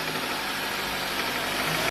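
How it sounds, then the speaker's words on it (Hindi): A petrol car engine with an internal problem, knocking and running steadily after start-up, a loud, continuous mechanical rumble with a constant texture throughout and no voices, ending abruptly. "जब आप गाड़ी स्टार्ट करते हो तो उस समय इंजन में कुछ प्रॉब्लम होने से इंजन से आवाज़ आता है इस तरह के"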